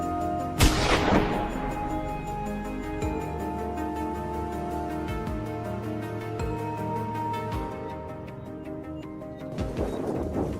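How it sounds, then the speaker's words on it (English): A rifle fires at a wild boar in snowy mountains: one sharp, loud shot near the start with a long, rolling echo, over steady background music, and another burst of noise right at the end. "A thunderous shot echoed through the Grand Mountains."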